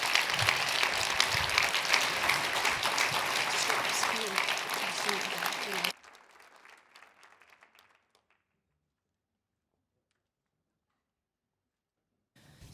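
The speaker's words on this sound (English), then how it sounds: "Please give them a warm applause as they come on stage." Audience applause at a digital leadership talk in Silfurberg welcoming speakers on stage, a dense loud wash of clapping that stops abruptly about halfway, then fades into near silence.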